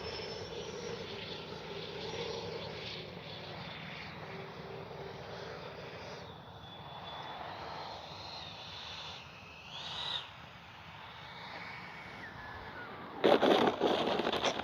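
The small twin 80mm jet engines of a Freewing MiG-29 Fulcrum model aircraft whine steadily as it comes in to land, pitch shifting as it slows, ending in a brief louder burst.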